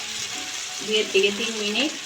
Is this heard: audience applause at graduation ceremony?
no